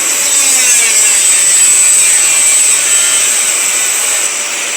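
A cordless mini angle grinder with a 76 mm disc screams steadily at high pitch while cutting, a continuous close, loud grinding whine with no pauses or talk.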